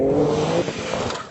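A Ford Raptor pickup truck drives along the road, its engine and tire roar loud and close, with a steady low rumble easing slightly partway through.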